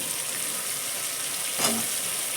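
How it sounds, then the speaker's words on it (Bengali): Green peas hit a pan of spiced oil with cumin and coriander and give off a soft, steady frying hiss, with one brief sharper sizzle flaring up midway, all fairly faint. "এবার মটরশুঁটিটা দিয়ে দিব"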